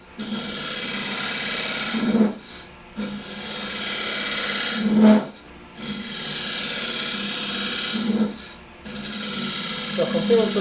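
A woodturning lathe cuts wood shavings from a spinning blank, producing a loud, harsh scraping rasp in three long passes separated by short breaks, while a person talks quietly beneath it.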